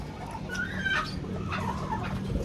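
Hens clucking on a farm in a steady, moderately close series of short calls over a low rumbling background.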